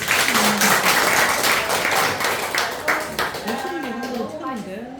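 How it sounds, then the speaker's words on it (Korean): A lecture audience claps for a visiting professor from Daegu University, hands clapping densely at first and then tapering off as a voice begins talking over the fading applause. "박수 부탁드립니다."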